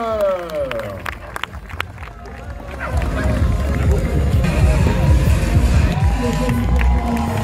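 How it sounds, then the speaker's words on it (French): Spectators at a French Masters mountain bike championship in Ploeuc L'hermitage cheer and clap for a passing rider, a broad crowd roar swelling after a few seconds of commentary-like voices and scattered claps, then holding steady and loud. "Les applaudissements pour Laurent Fischer"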